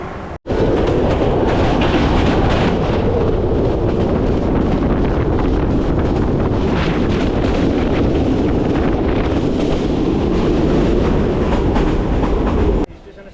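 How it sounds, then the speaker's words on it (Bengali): Dolon Chapa Express train travelling between Rangpur and Gaibandha, a loud, steady rolling rumble with rail clatter and wind buffeting that runs unbroken for nearly the whole stretch before dropping away sharply at the end. "এটা হচ্ছে দোলন চাপা এক্সপ্রেস রংপুর থেকে গাইবান্ধা রওনা দিবে"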